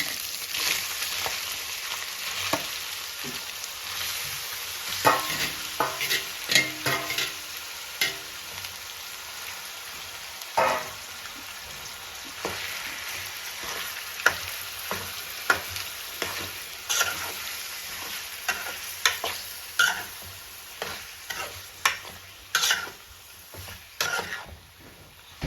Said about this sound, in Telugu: ఆయిల్, పచ్చిమిర్చి అన్నీ వేగాయి కదండి, ఇంట్లోనే మనం మ్యారినేట్ చేసి పెట్టుకున్నాం కదా 5 మినిట్స్, ఇది కందనకాయలు వేసేసుకోవాలి